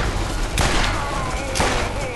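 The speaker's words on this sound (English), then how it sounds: "Just keep shooting at him." Gunfire from the Borderlands video game, a dense burst of shots with two sharper blasts standing out, heard loud and close beneath a continuous game soundscape.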